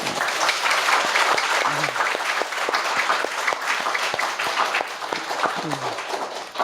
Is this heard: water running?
no